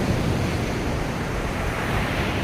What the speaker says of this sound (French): du bruit des vagues